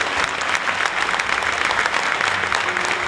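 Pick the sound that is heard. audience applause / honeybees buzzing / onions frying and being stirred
audience applause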